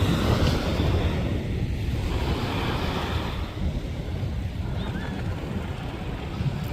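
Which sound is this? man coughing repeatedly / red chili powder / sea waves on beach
sea waves on beach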